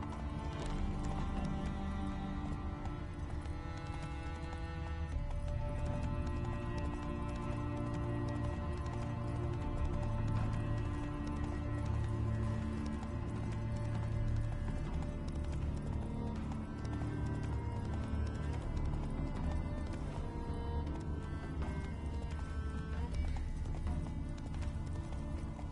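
Roach, a horse in The Witcher 3, trots with a steady clip-clop of hooves and an occasional whinny, under a loud, continuous game music score for the whole stretch.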